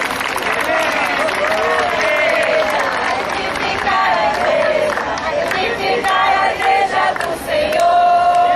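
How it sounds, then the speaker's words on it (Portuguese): A church community applauds and cheers at a parish Bible walk, with steady clapping and crowd voices running loud throughout. "Uma salva de palmas da comunidade São Brito."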